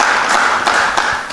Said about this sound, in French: give a hand for the Lord